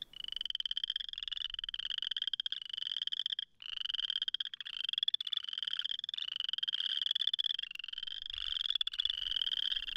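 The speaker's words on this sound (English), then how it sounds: "This used to be considered the western chorus frog, but now has been reclassified as a separate species, the boreal chorus frog." A boreal chorus frog calls in a steady series of rapid, creaky trills, each pulse train repeating closely one after another for the full stretch, loud and near with no voices.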